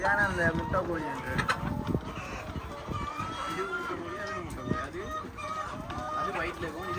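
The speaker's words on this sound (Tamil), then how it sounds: "இதான அந்த முட்டை கோழி என்று" Egg-laying hens, white and brown Leghorns, cluck and squawk steadily at a New Zealand farm. A rooster-like call rises now and then, and someone talks over the flock throughout.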